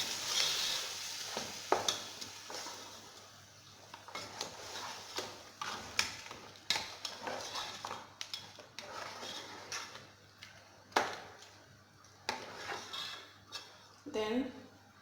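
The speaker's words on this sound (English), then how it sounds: "Then I'm going to stir." Chicken stew with blended tomatoes stirred in a pot, with irregular clinks and scrapes of a spoon against the metal over a low simmering sizzle, close by, and a faint voice briefly near the end.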